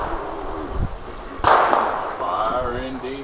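A single .270 rifle fires outdoors with a sharp, loud report and a brief rolling echo, while people talk before and after the shot.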